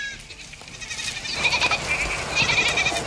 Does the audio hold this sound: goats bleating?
yes